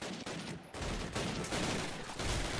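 Close gunfire crackles in a Call of Duty: United Offensive World War II firefight, where a sniper is shooting, with several sharp shots and noisy bursts over a couple of seconds.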